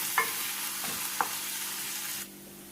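Shallots, curry leaves and dried red chilies sautéing in a pan, a loud continuous sizzle with a couple of sharp spatula knocks, dropping to a quieter hiss near the end.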